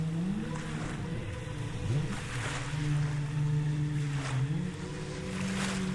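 Wltoys WL913 brushless RC boat running on 4S at full throttle on water: a high, whining motor pitch that rises and falls as it passes, steady and continuous with splashing.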